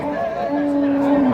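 A cow with her calf at a village cattle market gives one drawn-out moo that rises in the middle. The Sahiwal Sindhi cow sounds close and loud against a faint murmur of the crowd.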